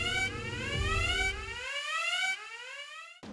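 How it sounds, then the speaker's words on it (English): A security camera alarm sounds in a tabletop Kill Team narrative setting: a loud, steady electronic siren tone with rising and falling harmonics, running continuously before cutting off abruptly near the end. "and the alarm is raised."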